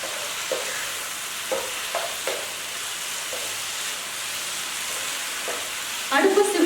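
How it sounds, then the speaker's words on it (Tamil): Mushroom Manchurian being stirred through its sauce in a pan over low heat, a steady soft sizzle and bubbling under repeated scraping strokes of the spoon, with a louder clatter near the end. "சிம்மில் வச்சுருக்கேங்க, அதனால் தைரியமாக கிளறலாம்"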